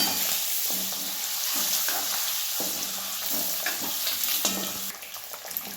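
Beaten eggs fry in hot oil with cumin in a pan, giving a loud continuous sizzle with stirring scrapes throughout.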